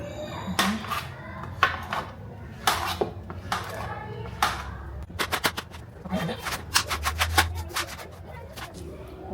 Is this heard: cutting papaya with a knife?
yes